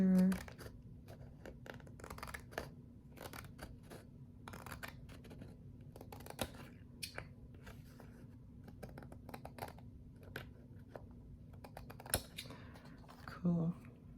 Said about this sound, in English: let's see if I can trim that a tad bit closer